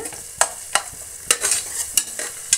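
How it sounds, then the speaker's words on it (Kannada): Tomato, coriander leaves, mint and onion fry in a pan for a palav, with a steady close sizzle broken by about seven sharp scraping stirs at fairly regular intervals; no voices. "ಟೊಮೆಟೊ, ಕೊತ್ತಂಬರಿ ಸೊಪ್ಪು, ಪುದೀನ, ಈರುಳ್ಳಿ ಎಲ್ಲ ಚೆನ್ನಾಗಿ ಫ್ರೈ ಆಗ್ತಾಯಿದೆ"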